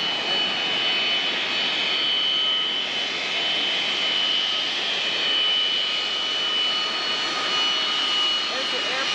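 A steady, loud jet engine roar with a high whine persists throughout, distant airplanes idling and spooling up before takeoff, constant without pause.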